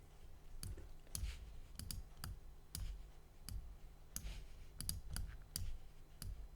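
Computer mouse used to trace lines in embroidery software, giving close, crisp clicks, some single and some in quick pairs, spaced irregularly through a quiet room.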